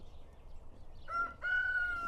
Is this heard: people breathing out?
no